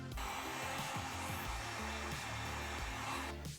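A heat gun blows steadily while heat-forming a costume trim piece, a continuous airy whine and rush held for several seconds at an even level before cutting off at the end.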